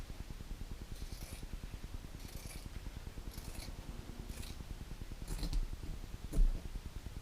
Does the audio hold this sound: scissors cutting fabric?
yes